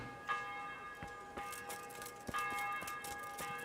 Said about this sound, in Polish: Biją dzwony.